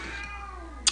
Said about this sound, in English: I got my cats, they're kind of yelling at each other.